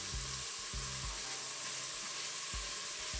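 Onion sizzles and fries in hot oil with aromatic spices, a steady loud crackling hiss with a few stirring scrapes and no talking.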